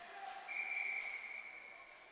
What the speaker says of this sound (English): Gets the whistles.